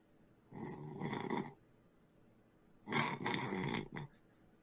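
Two rasping snores, one short and one longer, separated by a quiet pause, fairly faint and close by with no talking.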